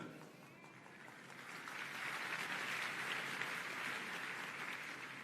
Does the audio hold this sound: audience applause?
yes